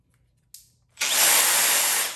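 Makita 18 volt cordless angle drill (DDA450Z) on its higher 1400 RPM speed: a click, then a loud, steady whine that runs close up without talk.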